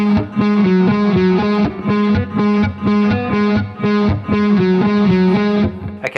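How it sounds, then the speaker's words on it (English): Distorted electric guitar plays the upbeat verse riff of a song, a choppy repeating pattern of short chord stabs in four even bursts, loud and close with no voices. "the next part we're going to learn from this tune is the upbeat guitar riff in the verse"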